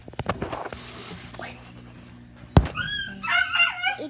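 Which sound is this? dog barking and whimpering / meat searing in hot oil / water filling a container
dog barking and whimpering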